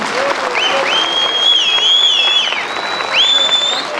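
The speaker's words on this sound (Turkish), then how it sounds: "Kocaman bir alkış alabilir miyiz?" A crowd applauds loudly and steadily for four seconds while high whistles swoop over the clapping.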